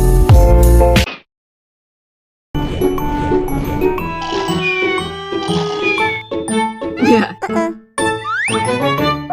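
A bright notification bell ding rings out, followed after a short pause by a busy run of chiming, jingling sound-effect tones with quick rising swoops, loud and without talk.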